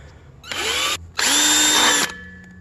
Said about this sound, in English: Now with your first drill bit, you're going to drill your center hole.